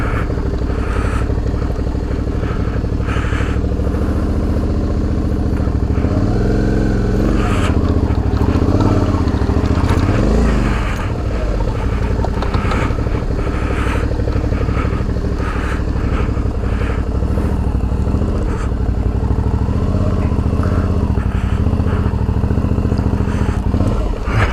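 A Suzuki V-Strom DL650 motorcycle on a raised suspension rolls slowly in tight turns on a slipping clutch, its steady engine drone loud and close throughout, with a faint rise and fall in revs.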